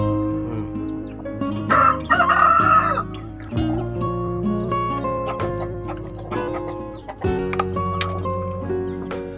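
Young Bangkok-cross F1 chickens, hens and chicks, cluck and call close by, with a louder burst of crowing-like cries around the two-second mark and steady fowl chatter throughout.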